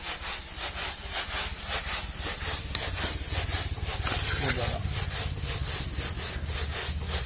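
Finger millet being winnowed with a traditional winnowing basket, a steady rhythmic rustling and shushing of grain tossed and shaken, close and continuous throughout.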